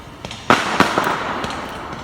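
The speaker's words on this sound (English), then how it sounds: "this is the video of people shooting every single night" Gunfire outside at night, a quick cluster of sharp cracking pops, several bursts in under two seconds, heard from indoors at moderate distance over a low background.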